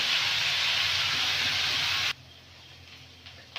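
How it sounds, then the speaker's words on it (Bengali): Flat beans with oil, salt and turmeric fry under a lid. A loud, steady steaming hiss runs for about two seconds and then cuts off abruptly, leaving a quiet low background. "ঢাকা দিয়ে ভেজে নেব।"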